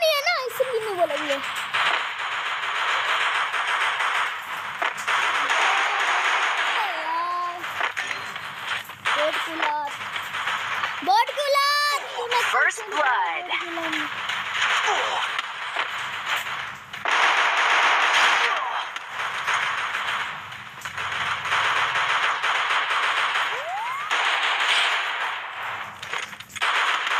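Pistols fire during a shooting match, with repeated rapid bursts of gunshots and sharp cracks spread across the stretch. Voices talk intermittently underneath.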